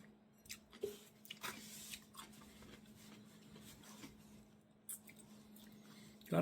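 Pickled cucumber with chamoy and tahini bitten and chewed up close, a few wet crunches and squishy chews spaced irregularly over a faint steady hum, ending in a louder crackle.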